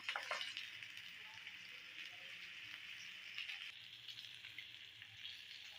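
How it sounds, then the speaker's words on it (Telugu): Pomfret fish frying in oil on a tawa gives off a steady, close sizzle with soft crackles and small pops that runs evenly throughout. "ఇట్లా డిప్ చేసుకున్న ఫిష్ని ఆయిల్లో ఫ్రై చేస్తున్నాను."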